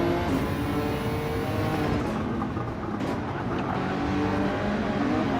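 Race cars roar steadily through a racing video game, a dense engine drone with shifting pitch as several cars run close together in a slipstream, loud and continuous with no talk.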